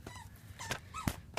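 A dog whimpers and makes short high squeaks in a few quick bursts, close by against a low background hum.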